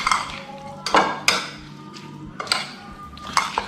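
Rice is mixed with spices and olive oil in a pot, with a utensil clinking and scraping against the metal in several sharp, close knocks separated by softer stirring sounds.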